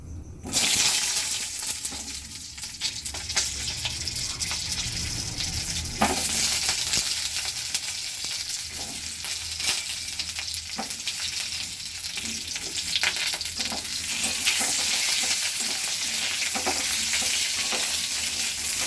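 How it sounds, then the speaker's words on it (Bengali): Jujube fruits frying in oil in a wok for a pickle, a loud continuous sizzle and bubbling with occasional stirring scrapes, close up throughout. "চলুন এবার কুলগুলো কড়াতে দিয়ে দিই"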